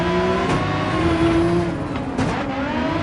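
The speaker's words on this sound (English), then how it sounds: "Just listen to that whistling." Turbocharged, engine-swapped race car in the Gran Turismo 7 racing game, a steady loud engine drone with a rising and falling turbo whistle over the top, sustained throughout with no talking.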